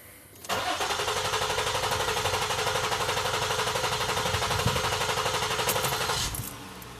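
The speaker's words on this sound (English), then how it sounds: "So let's go ahead and crank the engine." A Ford Flex engine cranking at full throttle in clear flood mode, the starter churning in a fast, even rhythm for about six seconds, loud and close, then stopping, with no talking.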